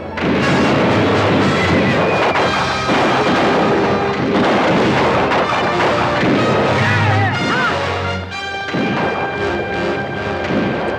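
A western film battle fills the scene with rifle and artillery gunfire, a dense, loud barrage of overlapping shots and booms. Shouting and music keep running beneath it.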